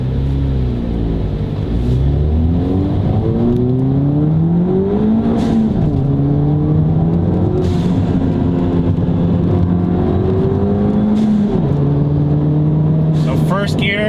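A Ford Fiesta ST's engine revs up and shifts repeatedly on canyon roads, pitch climbing through the gears, loud and close over constant road roar.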